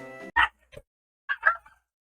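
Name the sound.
dog barking in video game Pokemon Black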